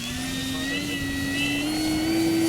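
E-flite Super Timber 1.7 electric RC plane taking off into a headwind without flaps, its motor holding a steady rising whine over continuous wind rush, loud and close throughout.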